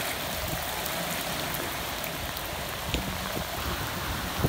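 Floodwater rushes like a stream during heavy rain, a dense continuous wash of flowing water and pouring rain close by, with a few small splashes and knocks breaking through the steady roar.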